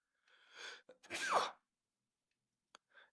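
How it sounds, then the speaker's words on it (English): A single close sneeze, a breathy intake followed by a sharp explosive burst, then quiet with a faint sniff afterward. "I had to sneeze"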